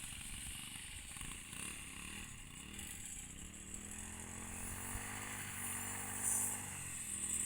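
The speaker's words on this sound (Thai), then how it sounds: "ตัดหญ้า" Small engine of a grass cutter running steadily while cutting grass in a rural village, a continuous buzzing drone with slight shifts in pitch and load, fairly close and unbroken throughout.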